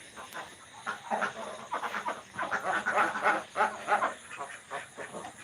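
Six- to seven-month-old ducks quack and call in a steady jumble of nearby bursts, several birds overlapping with brief pauses between calls.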